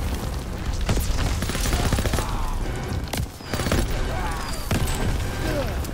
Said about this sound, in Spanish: Qué locura, los bombardeos